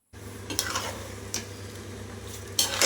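Soaked Ponni rice is stirred in hot oil in a pan, with a low steady sizzle and a few sharper scrapes and clinks of the spoon against the metal. It is close and moderately quiet, with no talk.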